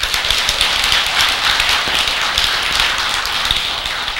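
A crowd at a Buddhist monk's dharma talk applauds loudly and continuously, many hands clapping in a thick, even patter with no pauses.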